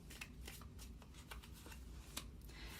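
Tarot cards shuffled and drawn by hand, a quiet close riffle of crisp card flicks and snaps in uneven bursts, with no speech.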